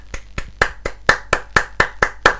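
Ten sharp hand claps at a steady, brisk rhythm, close and fairly loud, each a crisp isolated slap with brief decay and no voices.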